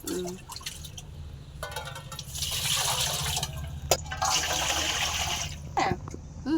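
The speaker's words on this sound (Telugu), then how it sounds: "గింజలనే 3 గిన్నెలు నీళ్ళు పోసుకోవాలి" Water is poured from a bowl onto castor seeds in a pot for home oil making, a splashing, gurgling pour that swells and continues for several seconds with small drips and clinks, alone and close.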